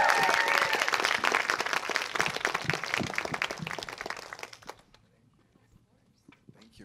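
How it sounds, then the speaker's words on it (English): A crowd at a SeriesFest Q&A applauds the evening's moderator, a Forbes senior contributor, with loud sustained clapping that fades out to near silence over the last two seconds. "a big, big round of applause for your moderator this evening"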